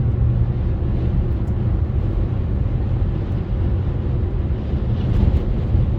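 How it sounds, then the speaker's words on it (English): Constant heavy wind buffets the microphone, a loud low roar that stays steady throughout with no other sounds standing out. "it's so windy."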